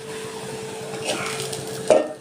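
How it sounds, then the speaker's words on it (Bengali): Mustard flowers fry with prawns in a pan, giving a soft, continuous sizzle with light stirring and a brief utensil scrape near the end. "আমার সর্ষের ফুল ভাজা হয়ে গেছে"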